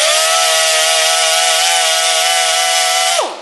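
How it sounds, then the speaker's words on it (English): A power sander whines loud and steady up close while melted tabs are sanded off a C7 Corvette grille, its pitch holding flat before dropping away as the tool spins down. "what we're going to do is just kind of gently sand that off"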